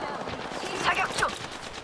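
Automatic gunfire from an Apex Legends firefight, dense bursts of rapid shots layered over each other for the whole moment, loud and close with a voice calling out in the mix.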